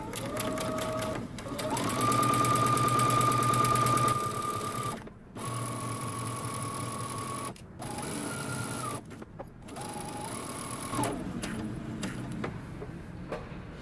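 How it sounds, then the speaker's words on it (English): A sewing machine stitches along the edge of a jumper strap with a close, rapid whirring hum that runs in bursts, speeding and slowing with short stops and backstitching pauses between runs. "we're going to stitch along the edge using 3/8 of an inch seam allowance."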